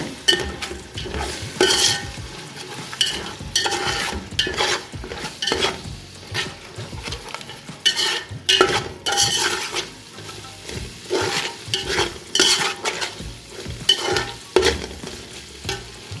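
Spices with turmeric fry for a country chicken curry as a spoon repeatedly scrapes and stirs the pan in rhythmic bursts over a low sizzle, close and without talk.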